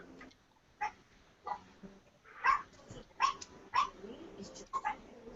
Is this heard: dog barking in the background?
yes